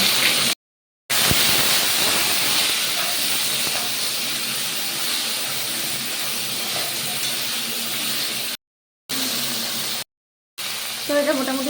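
Pointed gourd and raw banana fry in oil with a pinch of salt, making a continuous loud hiss and sizzle broken by a few brief silent cuts, with a faint voice near the end.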